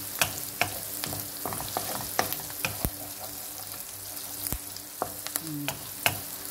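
Lamb kidney and eggs frying in a pan with a steady sizzle, broken by sharp scraping clicks of a utensil as the mix is stirred, close and without talk.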